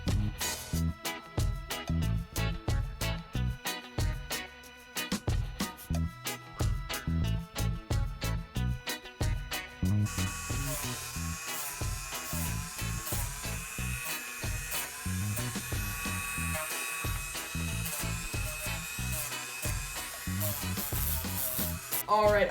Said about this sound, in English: using the rotary tool here and just beveling some of these edges